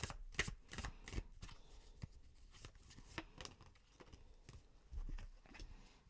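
Tarot cards are shuffled close up in quick, crisp riffles and slaps, a steady flurry of papery bursts at low level with no talking.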